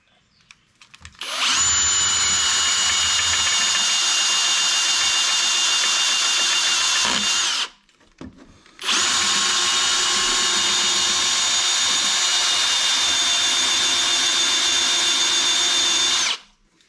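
A power drill with a 1/4 inch bit, lubricated with 3-in-1 oil, bores through metal on a John Deere compact tractor grill guard, whining loudly and steadily in two long runs separated by a brief pause.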